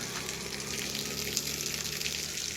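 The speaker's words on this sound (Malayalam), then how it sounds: "ഈ വളവിലാണ് ഈ വെള്ളച്ചാട്ടം" A steady, broad rushing of falling water fills the clip, constant and loud with no other sounds.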